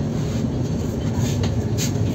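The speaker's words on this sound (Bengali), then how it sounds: "রামপুরহাট ঢুকলো ট্রেন।" The Ganadevta Express rolls into Rampurhat station, heard from inside an AC three-tier coach as a loud, steady low rumble of wheels with faint rattling above it.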